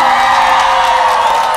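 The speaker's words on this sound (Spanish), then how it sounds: "A la cuenta de tres vamos a ver ese grito de júbilo" A crowd at a Christian music group's concert lets out a sustained cry of joy, a loud, dense wall of cheering and whooping voices that holds steady for the whole moment.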